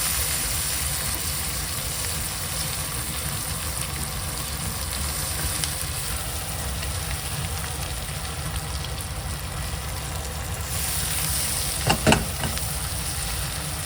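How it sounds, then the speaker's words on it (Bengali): Onion frying in oil in a pan, stirred as green chili and ginger paste is added, gives a steady close sizzle throughout, with a couple of sharp scraping knocks near the end. "কাঁচা লঙ্কা আদা পেস্টটা দিয়ে নাড়াচাড়া করবো।"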